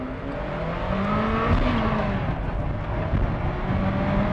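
A Ferrari F40 accelerating hard, heard from the cabin: a steady engine roar with rising harmonic tones as revs climb, moderately loud and continuous, with no talking.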